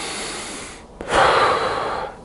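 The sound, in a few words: Wim Hof breathing exercise, deep breaths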